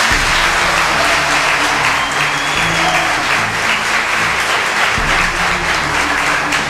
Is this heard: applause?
yes